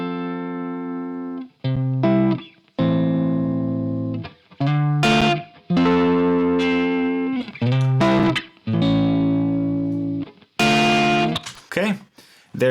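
An electric guitar plays through a distortion plugin as the drive is turned up mid-performance, sustained notes and chords in separate phrases growing brighter and grittier toward the end.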